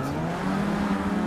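In the Forza 6 racing video game, a race car brakes hard and its tires squeal, a steady high whine sustained over the engine's drone for about a second without pause, close and fairly loud.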